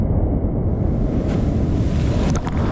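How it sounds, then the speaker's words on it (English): Hawaiian ocean surf rolling in, a loud, continuous low rushing roar of breaking waves heavily buffeted by wind noise on the microphone, with a couple of faint splashes near the end and no talk. "Look at those waves"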